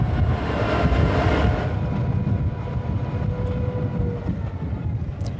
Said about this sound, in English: the train crosses the Agawa River